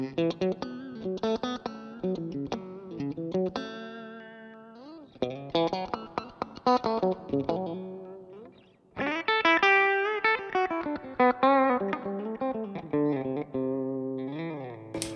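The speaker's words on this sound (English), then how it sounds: "combined with effects and a boost and distortion, really nice tone" Distorted electric guitar through an amp simulator with a boosted, driven tone plays a run of melodic phrases and chords, with short pauses between passages.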